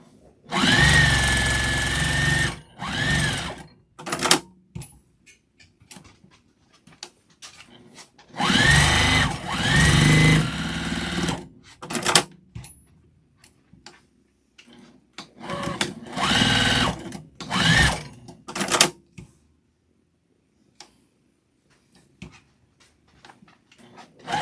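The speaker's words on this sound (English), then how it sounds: "we're just going to stitch all the way around, 1/4 inch." A sewing machine stitching a quarter-inch seam around a scrap-fabric mug rug, heard close in several runs of steady whirring several seconds long. Quiet pauses and short clicks fall between the runs.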